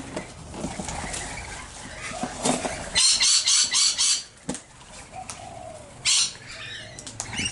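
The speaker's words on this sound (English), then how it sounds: "One of our magpies has come in for a visit." A magpie arrives at a backyard feeding spot in Nerang, with several bursts of flapping wings up close, loudest around the middle and again briefly near the end, over light outdoor background noise.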